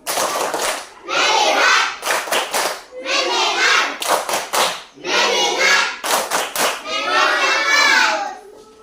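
A group of children claps in short rhythmic bursts, a leader's voice counting between each round of quick, crisp hand claps.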